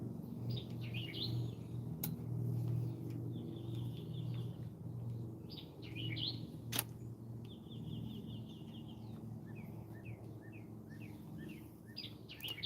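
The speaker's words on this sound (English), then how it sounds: "We're just out here watching the birds. And the hummingbirds are coming by now." Birds outdoors, with hummingbirds passing nearby, chirp and tweet in scattered short bursts and trills, faint over a steady low background hum.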